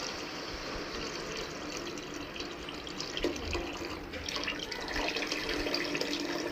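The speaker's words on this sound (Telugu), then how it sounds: "టమాటా మగ్గిన తర్వాత చింతపండు పులుసు పోసుకో." Tamarind juice poured into a pan of Andhra-style fish curry, a steady soft liquid trickle that runs continuously with slight swells, close and moderately quiet, with no talking.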